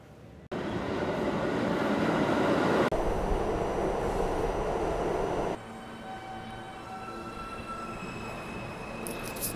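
A New York City train rumbles steadily along the tracks with a loud, continuous roar that drops partway through as the car keeps rolling and squealing faintly.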